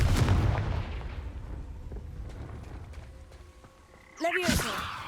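Confringo fire spell cast in Hogwarts Legacy: a loud rumbling blast fading away, then a sharp whooshing burst near the end, with a voice speaking early on.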